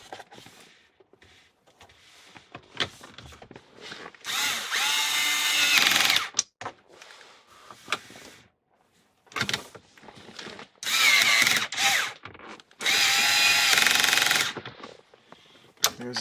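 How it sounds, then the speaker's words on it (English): A power drill drives four screws into the dashboard of a 1999 Acura RL, with several loud whirring bursts separated by quieter handling noises. "Put my screws in. There's 4 of them."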